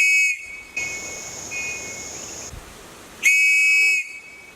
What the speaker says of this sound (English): you need to know how to use the sound from this whistle to convey to your rescuers